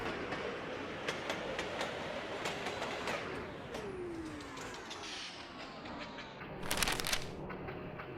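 A train in the rail-building game Mashinky runs along the track with a steady rumble and rhythmic clickety clacks, a falling squeal partway through and a louder rattling burst near the end.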